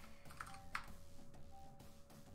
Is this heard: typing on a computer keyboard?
yes